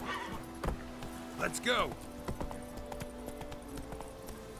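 Geralt's horse Roach trotting in The Witcher 3 video game, steady hoof clip-clops with a brief whinny, heard beneath a voice speaking.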